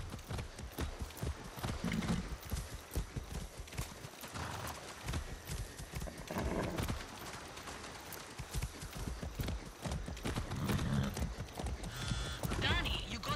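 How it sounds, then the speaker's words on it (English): Horse hooves clip-clop in a steady, continuous rhythm while riding in the video game Far Cry 6, with game sounds and voices talking over the hoofbeats throughout. "I haven't ridden a horse since basic training."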